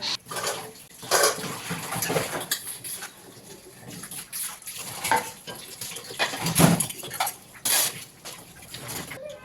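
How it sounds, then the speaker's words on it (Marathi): Quiet kitchen sounds: dishes and utensils clink and clatter now and then as water splashes during washing. "इथे मी भांडी वगैरे क्लीन करून घेते"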